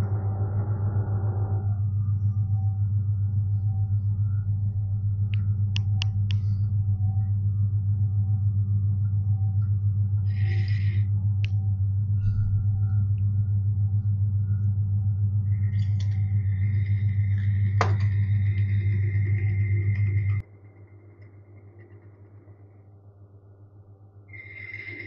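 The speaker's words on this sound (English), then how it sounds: "You can hear the interrupted cut there as I cut through the keyway." A Myford ML7 lathe bores a part out to 19 mm, taking an interrupted cut through a keyway: a steady loud motor hum with intermittent tool chatter and clicks over it, dropping to a quieter idle toward the end.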